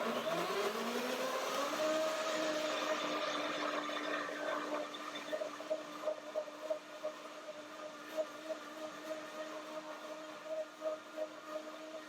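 A blender making cashew banana ice cream whirs at high speed, its motor pitch rising then settling into a steady drone, with slight pulsing toward the end.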